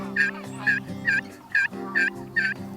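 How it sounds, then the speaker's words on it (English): Several birds, likely wild turkeys, call across an open field in cold weather, with six evenly spaced gobbling calls standing out over a low steady background. "Saw some birds coming across the field"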